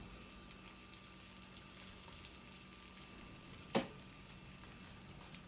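Vegan burger patty sizzling steadily in a frying pan, a constant hiss throughout with one brief sharper clatter near the end, no talking.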